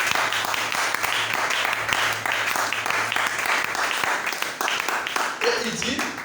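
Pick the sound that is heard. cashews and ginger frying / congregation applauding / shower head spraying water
congregation applauding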